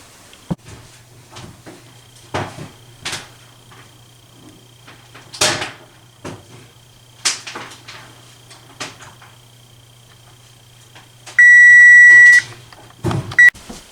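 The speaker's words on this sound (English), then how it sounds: "Alright, that's the timer." An oven timer sounds while no-knead bread bakes at 450 degrees, with a burst of loud electronic beeps near the end after scattered kitchen clatter and door sounds.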